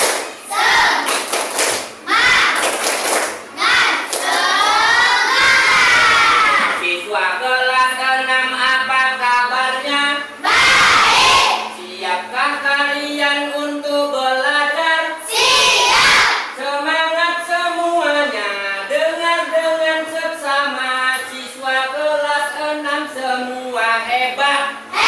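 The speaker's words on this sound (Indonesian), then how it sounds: "Bapak mau lihat dulu tepuk semangatnya." A classroom of children performs a rhythmic clapping chant before a lesson, voices shouting in unison over sharp claps and thumps, loud and close with brief pauses between phrases.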